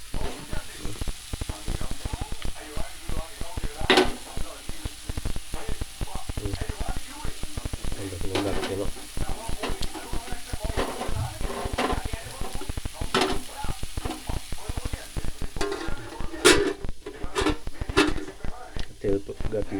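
Food frying in oil in a pan, a constant sizzle with occasional stirring scrapes, while a person talks over it.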